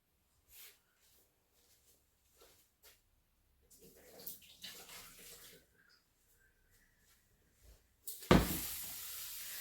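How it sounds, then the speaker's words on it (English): Water being tipped out of a saucepan while steaming a turnip pudding, heard as a brief loud splash and pour near the end, preceded by quiet kitchen knocks and handling noises. "Probably got a bit too much water there. Just going to tip a little bit of this out."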